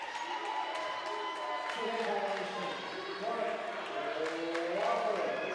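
Crowd at a college volleyball match between Wofford and PC in an arena, a steady murmur of student spectators with scattered shouts and ball thumps, continuous under a commentator speaking.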